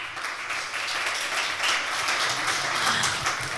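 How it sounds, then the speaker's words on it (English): Conference audience applauding steadily as panelists are welcomed on stage, a dense, even wash of many hands clapping throughout with no speech over it. "Another big round of applause, please."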